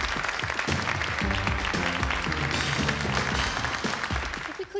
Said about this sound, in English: a nice round of applause for the boys and girls on the catwalk today